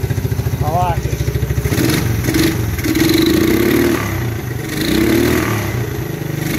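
A 1987 quad-runner 250 ATV engine fires up after timing and valve adjustments, ticking rapidly at first, then running with uneven, rising revs close by while someone talks over it.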